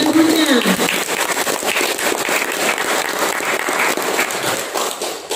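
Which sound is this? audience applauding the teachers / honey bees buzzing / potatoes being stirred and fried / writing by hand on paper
audience applauding the teachers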